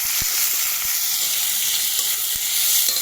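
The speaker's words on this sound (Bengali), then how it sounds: "আলুটা ভাজা হোক" Potato pieces fry in hot oil, a dense, hissing sizzle that stays close and even, with a few soft taps from stirring and no voices.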